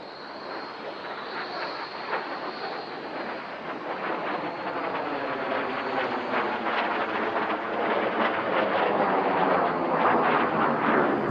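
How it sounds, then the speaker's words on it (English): A Canadair-built Sabre Mark 6 jet fighter passes at an airshow with a loud, broad roar that swells steadily as it approaches, rumbling and rough throughout with no voices. "And now Frederick Ackery in his Sabre Mark 6."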